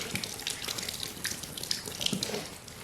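Water poured from a jug into a pet's dish indoors, a steady close splashing trickle for a few seconds.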